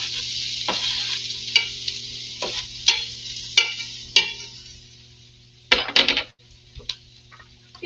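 Onions hit hot olive oil in a pan on a stovetop turned down to medium, crackling in a steady sizzle broken by repeated scrapes and clinks of a spoon stirring against the pan, with a louder burst of clattering near the end.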